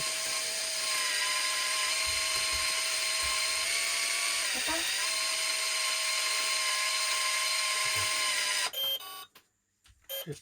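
A powered screwdriver whines steadily while driving a screw during replacement of an electric water heater, a loud continuous motor tone held for about eight seconds before cutting off, followed by brief clatter.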